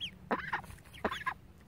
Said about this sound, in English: And here's the chickens.